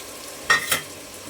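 Two quick scraping strokes of a spoon stir a veg biryani mixture with masala, coriander and curry leaves in a pan, close and brief over a faint sizzle.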